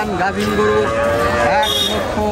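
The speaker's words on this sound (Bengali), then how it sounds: "অনেক সুন্দর একটি গাভী দেখতে পাচ্ছেন।" A cow moos loudly and close by at a busy rural cattle market beside a ferry ghat, one long drawn-out bellow with crowd noise behind it.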